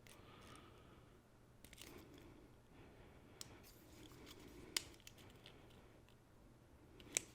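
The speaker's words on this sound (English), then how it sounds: "And then what I typically do is I trim the corners off." Scissors trim the corners off a strip of bulk-loaded film, giving a few quiet snips and a couple of sharp clicks over a low background hum, with no talking.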